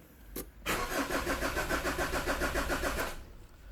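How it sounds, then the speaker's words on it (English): A car engine being cranked for a diagnostic test, heard as a close, loud run of steady rhythmic cranking pulses lasting over two seconds before it cuts off. "Okay, let's crank the engine."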